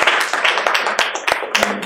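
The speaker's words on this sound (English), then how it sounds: "I think maybe another round of applause that would be." An audience at a student award ceremony gives a round of applause, with scattered, uneven hand claps close by over a low murmur for about two seconds.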